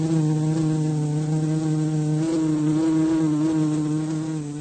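Wasps hum steadily around a nest in a garden, a close, sustained buzz that holds level for several seconds and then fades slightly at the end.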